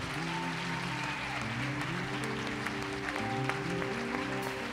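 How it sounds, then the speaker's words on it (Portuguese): Church congregation applauding during a service, a steady, dense clapping spread over a low musical drone or keyboard chord that carries on underneath the whole time. "pode aplaudir o Senhor"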